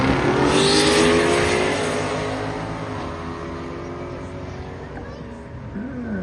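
A 2010 Chevrolet Camaro with a V6 makes a drag racing run at a charity airport drag race event: a loud engine roar rising and then easing off as the car pulls away, with talk over it.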